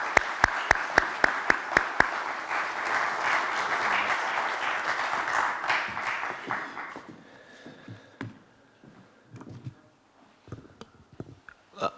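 Audience applause welcoming a visiting lecturer at a Trinity College lecture, a few sharp claps leading into a full round of clapping that holds for several seconds, then thins out into scattered claps.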